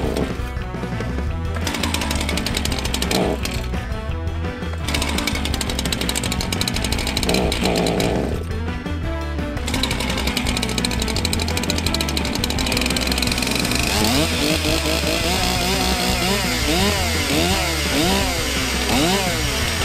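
An old engine that has sat for months on bad gas fires up and keeps running, a loud, steady, rough mechanical roar that holds for the whole stretch, close by, with shifting tone and no talking.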